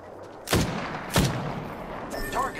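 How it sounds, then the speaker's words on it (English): Two sharp gunshots ring out in the shooter Apex Legends, spaced about half a second apart, loud and close, followed by a brief metallic clatter. "Opening fire on the enemy."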